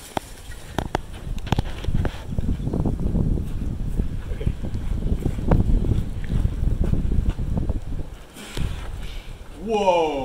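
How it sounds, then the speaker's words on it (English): Gusty wind rumbles and buffets the microphone in uneven surges, with rustling and a brief voice near the end. "you know it's a little windy right now"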